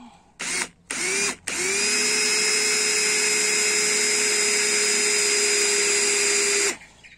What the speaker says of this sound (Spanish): voy a tratar de mantener el taladro lo más recto posible